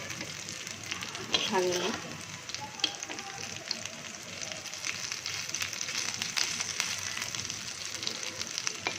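Lentil fritters (bora) fry in hot oil with a steady, fine sizzle throughout, brief scraping of a spatula as they are turned one by one, and a short spoken phrase near the start.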